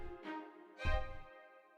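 Staccato strings from a Native Instruments Kontakt sample library play two short, clipped chord stabs, the second fuller and heavier, with no talking.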